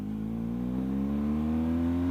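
A BMW GS motorcycle engine pulls steadily while riding on mountain roads in spring, its pitch slowly rising as it accelerates; a continuous, close drone with no talk over it.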